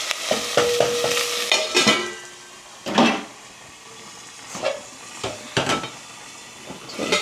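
Hot oil spattering and sizzling in a pan while cream is churned into homemade butter, with scattered loud pops and crackles over a steady frying hiss, close up.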